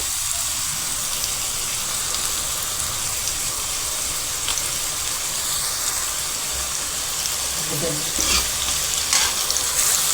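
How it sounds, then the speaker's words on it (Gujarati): Loud, continuous sizzling of bottle gourd frying in a pan, with stirring scrapes and clunks of a spoon toward the end. "તેને હલાવીને મિક્સ કરી નાખીશું"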